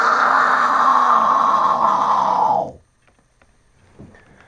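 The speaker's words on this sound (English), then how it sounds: "the death chord scream should sound something like this." Demonstration of a false-chord death scream by a metal vocalist, a single sustained harsh, gritty vocal roar held loud for about two and a half seconds before cutting off abruptly into near silence.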